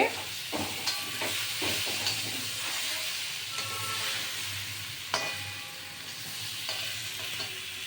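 Egg and cauliflower curry masala stir-fries in a pan with homemade garam masala, a steady sizzle and hiss under repeated close scraping and knocking of a spatula against the pan.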